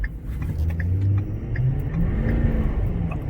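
A Ford F-250 Powerstroke diesel pickup accelerates hard at full throttle up an off-ramp, its low engine rumble rising steadily and loudly from inside the cab, no talk.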